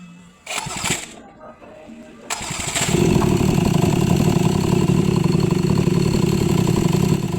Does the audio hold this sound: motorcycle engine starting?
yes